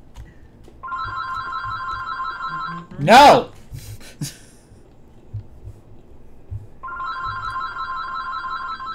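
A telephone rings in Fallout: New Vegas, two electronic ring bursts at the start and end separated by a pause, with a loud shout and some talking in between.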